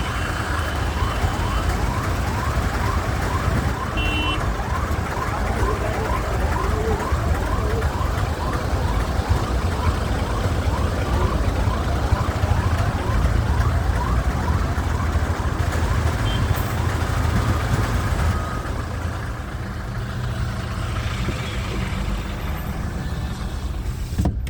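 An ambulance siren wails steadily and close by, caught in a traffic jam among idling cars, its rising and falling tone running nearly the whole time amid general street noise before easing slightly near the end.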